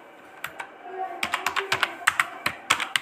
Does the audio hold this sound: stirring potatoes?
no